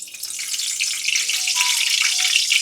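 Curry leaves dropped into well-heated oil in a hot kadhai for tempering, while preparing a pomfret curry; a steady, close crackling sizzle runs throughout with no talking.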